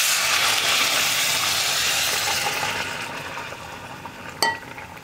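Chickpeas being stirred into a tomato masala for kadala kurma, a spoon scraping and clinking against the pan over a soft steady sizzle that fades. A sharper clink comes near the end.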